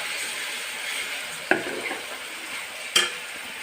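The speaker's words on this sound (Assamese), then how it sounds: "অকণমান কেঁচা গোন্ধটো যোৱালৈকে ভাজি আছোঁ। এতিয়া পিঁয়াজখিনি দি দিলোঁ।" Onions go into a pan to fry for jatilau (bottle gourd) kofta, with a soft steady sizzle and two sharp clinks of a utensil stirring against the pan.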